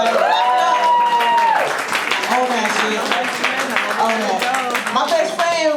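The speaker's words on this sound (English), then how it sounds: "Clap it up for friendships." At a comedy show, audience applause and clapping swell beneath a loud, animated voice talking over the crowd throughout.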